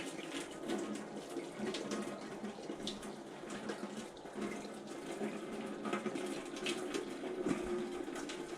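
Hot water poured slowly from a kettle over foam while flattening a Lidl wing, a steady close trickle and hiss of running liquid throughout without talk.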